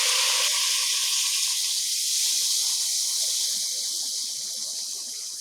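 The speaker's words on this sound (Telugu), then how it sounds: "నీళ్ళు మొత్తం వేసేసిన." Water is poured into a cooking pot of chittimuthyala chicken pulav. It makes a steady, close, bright rushing hiss that fades slightly over a few seconds, with no talking.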